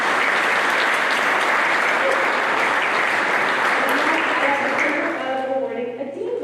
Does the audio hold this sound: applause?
yes